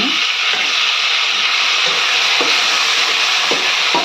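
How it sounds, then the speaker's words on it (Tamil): Chopped tomatoes sizzle in hot oil for South Indian sambar, a steady frying hiss broken by soft periodic scrapes of a spoon stirring the pan. "இதையும் நல்லா இப்படி கலந்து விடுங்க தக்காளி சேர்த்துணுங்க"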